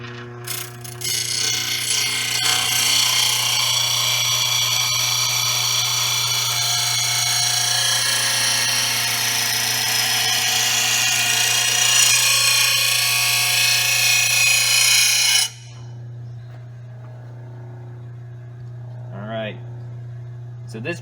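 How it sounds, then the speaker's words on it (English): An Oregon 88-025 mower blade grinder, a 1/3 hp bench unit, runs loudly and steadily as it sharpens a mower blade, a continuous broadband grinding that cuts off abruptly, leaving a low motor hum and a brief faint voice. "So basically it'll keep taking it off until it gets that perfect angle"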